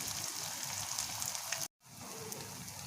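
Ash gourd leaf fritters fry slowly over low heat in a pan, a steady soft sizzling hiss broken by a brief cut of silence before resuming, close and fairly quiet.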